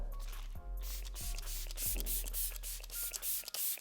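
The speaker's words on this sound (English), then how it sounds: "So I'm going to give this a good shake, spray it away from my face." Short hissing bursts from a facial mist spray bottle, a few quick pumps in succession, close up over a steady rubbing, humming background.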